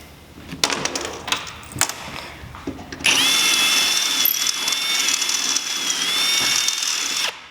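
A power drill bores rivet holes for a duck boat LED light, first a few clicks and knocks, then a sustained high whine for about four seconds at close range.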